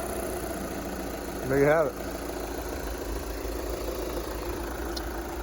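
A 2013 VW Jetta TDI diesel engine runs steadily after a fuel filter change, with a constant low idle drone. A person speaks briefly early on.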